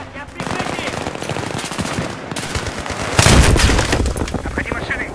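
Rapid bursts of machine gun fire from the PC game Battlefield 3 rattle loudly and nearly continuously, with a heavier burst of shots and a boom near the end, mixed with game voices shouting.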